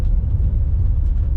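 A BMW inline six-cylinder engine rumbles nearby, deep and loud, with a slightly pulsing low drone and no voices over it.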